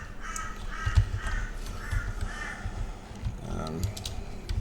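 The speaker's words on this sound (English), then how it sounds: "I do apologise if you can hear a crow in the background." Harsh cawing from a crow on an outside fence repeats several times at moderate distance, mixed with keyboard typing and clicking close by.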